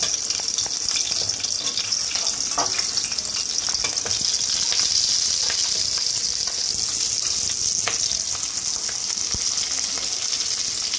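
Ingredients for homemade restaurant-style mandi biryani fry hard in a pan, making a loud, dense, continuous sizzle, with scattered scrapes and knocks from stirring. No one speaks.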